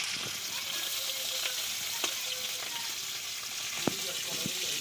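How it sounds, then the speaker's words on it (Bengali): Fish fries in hot oil with a continuous crackling sizzle, sharp pops and spatters breaking through now and then, and a few faint clinks. "তো আমি মাছগুলো দিয়ে দেব ভাজার জন্য।"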